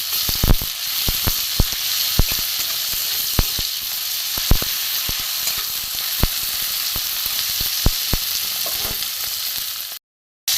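Onion and tomato sizzling steadily in a pan with salt, a continuous frying hiss punctuated by sharp crackles and pops throughout, fairly close, with no talk.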